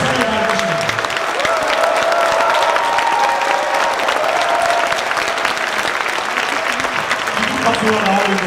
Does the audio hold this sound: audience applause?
yes